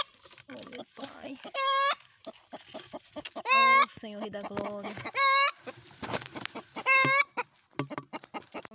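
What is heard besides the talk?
hens clucking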